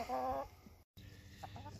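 Chickens cluck and murmur close by in a coop, with a few short bursts of clucking separated by quiet moments, plus a brief silent break partway through.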